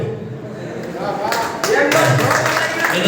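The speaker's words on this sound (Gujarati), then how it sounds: "જોરદાર તાળી છે મિત્રો" An audience at a meeting breaks into applause, with dense clapping that swells and grows louder midway and carries on steadily to the end, mixed with a voice.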